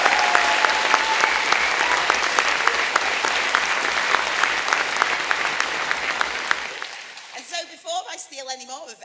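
Rally audience applauding for a speaker at a Socialism 2023 event, loud sustained clapping from a large crowd that carries on for several seconds before fading out, with a voice starting to speak near the end.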